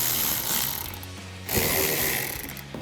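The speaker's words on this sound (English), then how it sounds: "Use our ratchet and 8mm socket and loosen those up." A ratchet with an 8 mm socket loosens the intake hose clamps on a Corvette C7, making two close, steady stretches of rapid clicking with a short pause between them.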